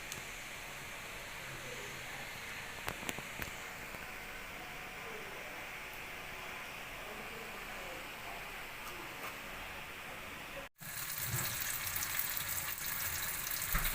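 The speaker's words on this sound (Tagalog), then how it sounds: "Yan, piniprito na po natin mga kayudski yung lumpia." Lumpia filled with bean sprouts fry in oil, a soft, even sizzle heard up close at low volume, with a brief cut near the end before a slightly louder, brighter frying hiss resumes.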